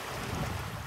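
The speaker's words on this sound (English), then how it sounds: "It's a little bit windy today" Steady wind roars and buffets the microphone in a constant, full rush with no pauses or voices.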